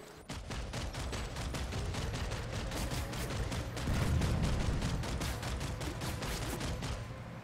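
Sustained gunfire in a casual Rainbow Six Siege match on the Snowshear map: dense, rapid automatic bursts rattle continuously at an even, fairly loud level, with a heavier thump partway through and no talking.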